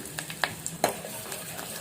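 Curry leaves with dried red chillies, crushed garlic and seasoning seeds crackle and sizzle in hot oil, with a few sharp pops over a steady frying hiss, close and brief.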